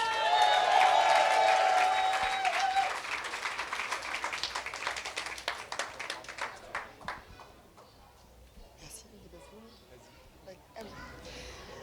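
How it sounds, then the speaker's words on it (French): Audience applause and cheering fill a hall at a satirical public-services awards ceremony, starting loud under a ringing tone and thinning into scattered individual claps before fading to near quiet. "Préparez vos meilleurs applaudissements, car ce soir, on célèbre les Feignasses de l'année 2025."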